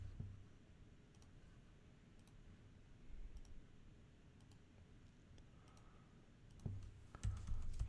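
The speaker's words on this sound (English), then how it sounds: "I'm typing as fast as I can." Quiet typing on a computer keyboard, light clicks coming in short clustered bursts with gaps between them, faint over low background noise.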